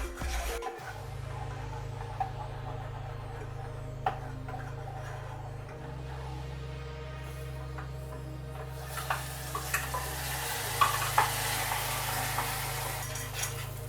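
Butter hits caramelizing sugar in a pan for salted caramel sauce, giving a steady sizzle and bubbling with occasional utensil taps, over a low constant hum, growing brighter and hissier toward the end.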